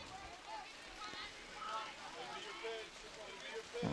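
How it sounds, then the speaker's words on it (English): Steady rain falls across a softball field during a game between River Ridge and Shelton, a continuous hiss of drops with faint distant voices and crowd sounds under it. "And the rain picks up yet again."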